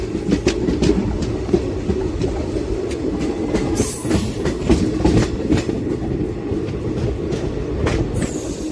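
A passenger train on the Guntur–Macherla line, near Siripuram, runs loud and close: a steady rumble with rhythmic wheel clatter over rail joints and occasional high wheel squeals.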